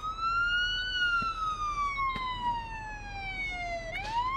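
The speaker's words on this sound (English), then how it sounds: "for the siren wailing in the background" A police siren wails steadily in the video game Police Simulator: Patrol Officer, its tone slowly rising and falling, then jumping back up near the end, loud over a low background rumble.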